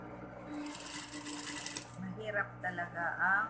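A sewing machine stitching a small baptism outfit runs in a rapid, close whirring burst for over a second, then stops as someone talks.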